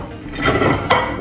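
Metal pans and utensils clatter as crispy fried noodles with seafood are scooped into a pan, with two sharp clanks over a short, close kitchen clatter.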